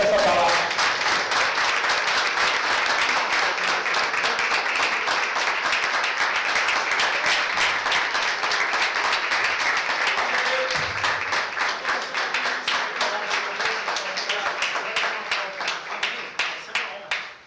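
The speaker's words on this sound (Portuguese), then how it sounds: "E você aplaude ao Senhor e receba essa palavra." Church congregation at a thanksgiving service applauds, a loud, continuous wash of clapping that holds steady for most of the stretch, then gradually thins and fades near the end.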